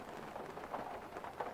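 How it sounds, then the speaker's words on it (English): Heavy rain falls outside and reaches indoors as a faint, steady hiss and patter, continuous and even throughout, with no voices. "As you guys can see, it is raining like crazy."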